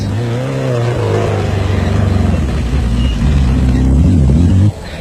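A Toyota Raceco off-road race car drives past in the 1991 Thaba Nchu Sun 500 in South Africa, its loud, close engine droning steadily with a rising whine, then cutting off abruptly.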